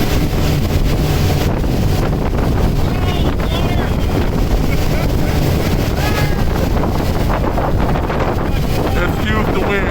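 Strong wind buffets the microphone on a fast boat ride in New Orleans, a constant loud roar with water and engine rumble beneath and voices faintly heard under it.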